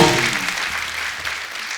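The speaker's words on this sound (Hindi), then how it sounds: "एक बार जोरदार तालियां हो जाए हमारे मेहमानों के लिए।" An audience applauds guests arriving on a show, a broad wash of clapping that starts loudest and gradually eases off, with a brief tonal trace at the very start.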